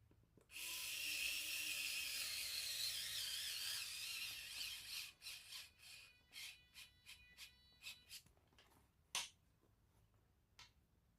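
Small cordless electric screwdriver driving screws into a sewn crossbody purse: a sustained high whirring motor run, then a series of short stuttering bursts as the screw seats, close and fairly quiet.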